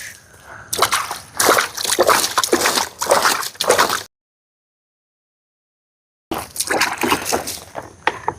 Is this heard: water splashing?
yes